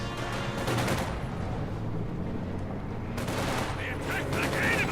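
Gunfire in the real-time strategy game Company of Heroes 2, dense rattling bursts of rifle and machine-gun fire with distant booms, continuous and loud throughout the battle.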